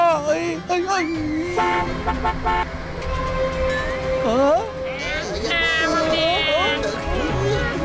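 Bus horns blare in a Motu Patlu cartoon scene, loud tonal honks sounding repeatedly alongside a revving vehicle, with animated voices talking excitedly throughout.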